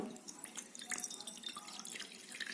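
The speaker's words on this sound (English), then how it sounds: "suppose we pour this water in this bowl." Water poured from a glass into a bowl, a close, quiet splashing and dripping trickle lasting a couple of seconds without talk.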